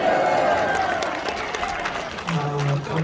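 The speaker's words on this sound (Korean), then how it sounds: "박수로 환영해 주시기 바랍니다" Audience at a church gathering clapping in welcome for a visiting pastor, a loud, steady burst of applause that continues throughout, with a voice faintly heard beneath it.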